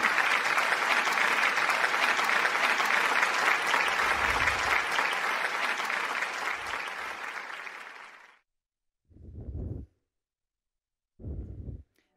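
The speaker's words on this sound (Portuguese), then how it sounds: "Um aplauso," A crowd at an anniversary gala in Portugal applauds steadily for about eight seconds before the clapping fades out, followed by two short bursts of sound.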